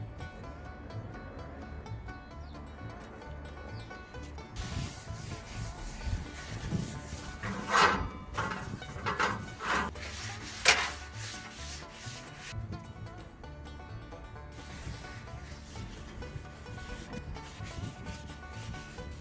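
Tissue paper rubs vegetable oil over the metal grill of a Tepro Wichita barbecue during first-use seasoning, a long stretch of soft scraping strokes with a few louder swipes in the middle.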